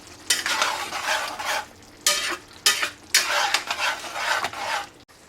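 A tapered wooden paddle stirs onions cooking in a pot for a Cajun chicken étouffée, with repeated scraping sweeps against the pot over a soft sizzle, close up.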